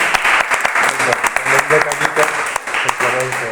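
An audience claps for the artist David after an interview. The clapping is fairly loud and continuous, and voices talk over it.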